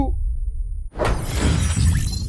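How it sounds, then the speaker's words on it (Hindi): Loud grenade blast in a battle royale shooter game: after a near-silent lead-in, a sudden broadband explosion erupts at about one second and rolls into a long, rumbling debris-filled tail. "मैंने यहाँ पे ग्रेनेड कुक किया"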